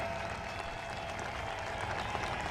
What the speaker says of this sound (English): round of applause for Matt Field and Jonathan Castro throwing